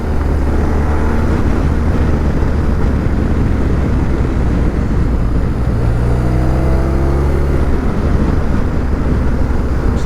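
A motorcycle on the road accelerates and shifts up into third gear, its engine loud and continuous close to the rider, with rising revs and wind roar filling the whole stretch.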